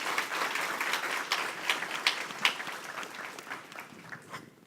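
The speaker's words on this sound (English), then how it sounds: "a big round of applause" A tech conference audience applauds at a keynote with dense clapping that gradually thins and tapers off, ending in a sharp bump.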